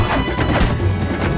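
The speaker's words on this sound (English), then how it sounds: "some of the sound effects sound like they were ripped directly from 60s Batman movies" Cartoonish crash sound effect from the video game Crash of the Titans, a loud, dense smash with clattering debris that carries on for over a second, alone and without speech.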